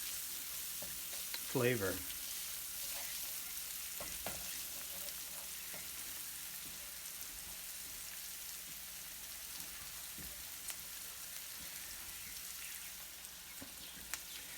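Garlic, onions and cilantro sauté in a pan as a soft, steady sizzle runs underneath, joined by a few scattered clinks and a brief spoken word near the start.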